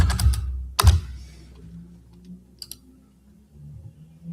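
A few loud, close clacks of a computer keyboard during a livestream, a couple of sharp bursts of keystrokes, then sparse softer taps over quiet room hum, no talking.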